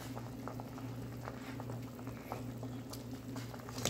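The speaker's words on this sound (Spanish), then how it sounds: "Voy a dejar hervir un poco más." Pumpkin vine and chicken broth simmer at a steady boil in a pot, with a continuous soft bubbling patter and occasional small pops close by, no voices.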